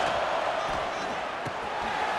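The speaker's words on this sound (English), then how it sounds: "This dog crowd is off the leash, and they are coming after them, bringing noise on third down." A stadium crowd roars in College Football 26 on a third-down play, a broad, sustained wall of noise with faint thumps rising through it while an announcer talks over the top.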